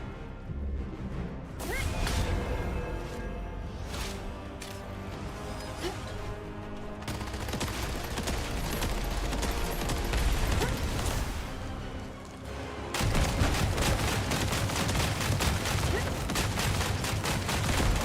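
Shotgun fire in the video game The First Descendant, rapid repeated blasts over busy game effects and music-like background, loud and continuous with whooshes and crashes throughout.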